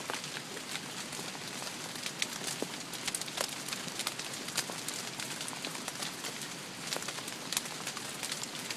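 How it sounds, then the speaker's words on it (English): June hail falls steadily as a dense patter with scattered sharper ticks and taps on surfaces, moderately loud and continuous, with no voices. "Hail in June."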